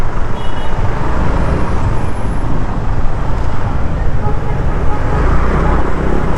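Dense road traffic in Davao City makes a loud, continuous roar of engines and tyres from nearby vehicles, including buses and trucks, heard from a moving vehicle.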